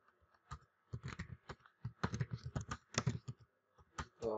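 Computer keyboard typed in bursts of quick, close clicks with brief pauses while entering code for a web API, clear and alone with no talking.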